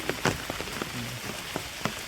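Rain begins at Matheran, with a few scattered drops tapping on a surface close by, faint and irregular.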